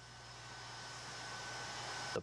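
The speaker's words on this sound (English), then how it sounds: "the plane now on the ground pulling into the hangar out there at Ellington" A NASA plane rolls on the ground at Ellington after a long flight from Kazakhstan, taxiing into a hangar with a steady, broad engine roar that holds throughout and cuts off abruptly at the end.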